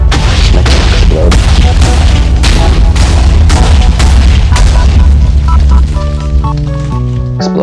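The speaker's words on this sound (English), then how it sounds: "It's an explode button. Just make it explode." Booming, rumbling game explosion from an explode button on a Minecraft-style video game map, loud and continuous with repeated heavy blasts before fading into ringing tonal effects near the end; no speech.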